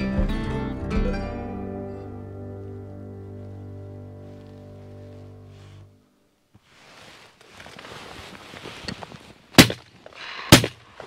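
Two sharp shotgun blasts during a pigeon hunt at a feeding site, coming late and close together after a stretch of steady droning sound and a quiet pause, each loud and abrupt against faint outdoor rustling.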